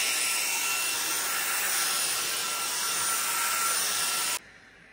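A Teqqo Powerstick Plus cordless stick vacuum runs with a steady, high-pitched whine at close range for about four seconds, then cuts off abruptly, leaving near silence.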